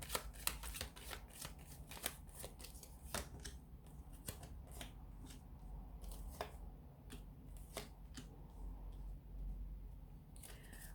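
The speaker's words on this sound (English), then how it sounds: "So we'll give the cards a shuffle here" Tarot cards are shuffled by hand up close, with rapid soft riffling and sharp tapping clicks repeating irregularly over a quiet background.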